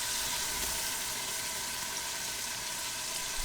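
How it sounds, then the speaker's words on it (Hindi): Tomato puree frying in oil with garlic, ginger and onion gives a steady, close, bright sizzle and crackle that stays even throughout, with no talking. "और इसे भी भून लेते हैं।"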